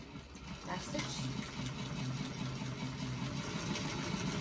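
A sewing machine backstitches a bag seam. The needle chatters in a fast, even, mechanical rhythm that stays steady and close throughout.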